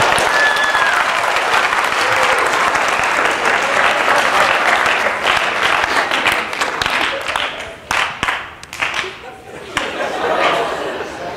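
Audience applause in a chemistry classroom, a steady wash of clapping and chatter that thins toward the end into scattered, slower individual claps.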